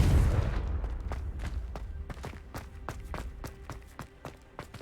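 Confringo blasting curse cast repeatedly in Hogwarts Legacy, heard as a rapid series of sharp crackling blasts and thuds over a low rumble, fairly loud at first and gradually easing off.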